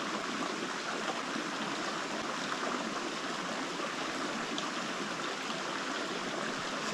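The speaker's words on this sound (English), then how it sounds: "I love that sound of the river" A river stream on the Colorado Trail flows steadily, a constant soft rushing and gurgling wash with no breaks, faint and heard alone.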